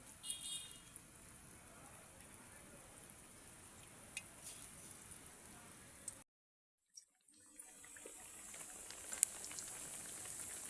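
Onion fritters (peyaji) dropped one by one into lightly heated oil, giving a faint, steady hiss and crackle that cuts out briefly midway, then resumes a little louder.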